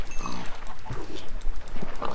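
Minecraft pigs grunt and oink in short bursts in a blocky game world, several snorts scattered across two seconds amid faint game noise.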